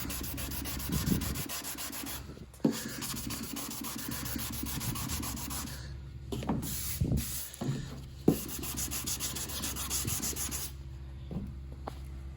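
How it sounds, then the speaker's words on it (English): Sanding on Nissan S15 car bodywork to prep areas for body filler, a steady close rubbing scrape running through most of the clip with brief pauses and a few sharp knocks. "Go ahead and sand the areas where I'll need body filler."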